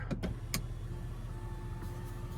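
Power sunshade motor on a 2024 GMC Sierra 3500HD Denali Ultimate sliding back in the cab, a steady quiet electric hum with a few sharp clicks near the start.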